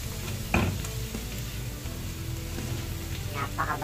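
Laing ingredients with black pepper stirred in a pan, a soft steady sizzle with a few brief scraping clatters near the start and at the end, no talking.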